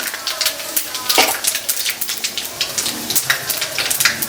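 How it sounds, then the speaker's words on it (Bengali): Panch phoron spices dropped into hot cooking oil for khichuri, crackling and sizzling in quick irregular bursts close by, with a voice speaking over the frying. "আমি এই যে কিছু পাঁচ ফোড়ন দিয়ে দিলাম তেলের উপর"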